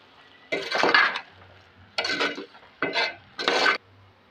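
Ingredients for a mango and drumstick pulusu are mixed in a pot, making four distinct bursts of scraping and rubbing strokes separated by short pauses, close and clear with no talk.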